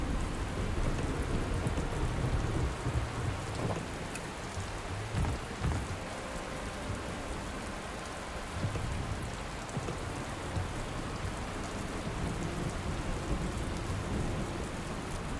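A thunderstorm in Dustland Delivery keeps up a dense, even roar of heavy rain, with low rumbling swells and faint thunder beneath it, continuing alone without voices.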